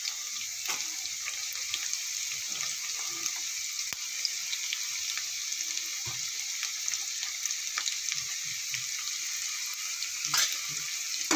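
Goat blood and chopped onion fry together in a pan, giving a constant bright hiss with scattered faint clicks and stirring taps, steady throughout and with no voices.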